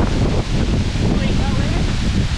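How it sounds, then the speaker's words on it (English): Loud, steady wind buffets the scene at Larapinta Falls in Lamington National Park, a continuous rushing roar blended with waterfall spray and microphone buffeting, with a faint voice briefly present. "Oh, I'm too cold, man. It's so windy here."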